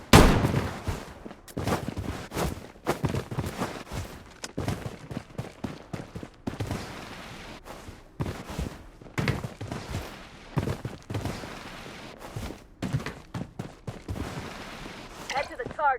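Rapid gunfire bursts in the Blood Strike shooter game during a squad fight, dense overlapping automatic shots and single cracks at close and mid range, with in-game voice callouts mixed in.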